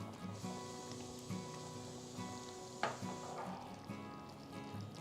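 Chicken pieces tossed into a pan of Schezwan fried rice set off a steady close sizzle of frying, with a brief sharper crackle and scrape of stirring partway through.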